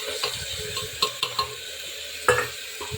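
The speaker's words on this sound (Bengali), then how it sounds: "মশলাগুলো ভালো করে নেড়ে চেড়ে নেব।" Spices stirred and frying in a pan, a soft sizzling hiss under several sharp scrapes and clinks of a spoon against the pan, close and brief.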